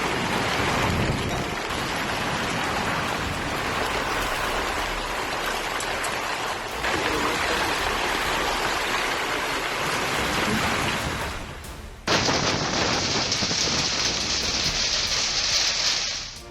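A storm with hail, heavy rain and powerful winds in eastern Queensland produces a loud, dense, continuous hiss and patter of pounding precipitation. The sound shifts abruptly midway to a brighter, harsher roar.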